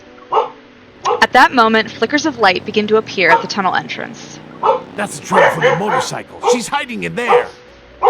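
Pet dogs bark and yip repeatedly in a home while a person talks continuously over them, the barks coming in short bursts mixed among the speech.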